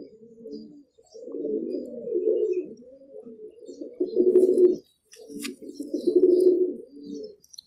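A baby pigeon of the Teddy breed coos in soft, low, throaty bursts, four or five rolling phrases close by with short pauses between them, and faint chirps in the background.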